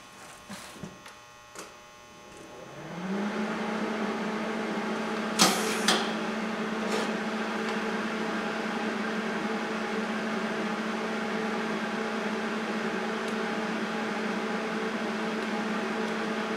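An angle grinder spins up and strips paint from a steel trailer receiver piece, a loud steady close whine holding after a few handling knocks, with brief scraping bursts as the disc bites.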